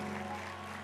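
A church congregation at GSJS Tunjungan Plaza Surabaya claps together in a brief, dense burst of applause filling the hall.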